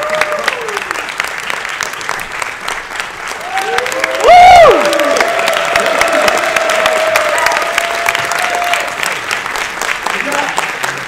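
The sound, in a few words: audience applause welcoming a moderator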